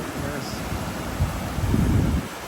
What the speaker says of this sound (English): That's not the wind. That's the waves crashing in here.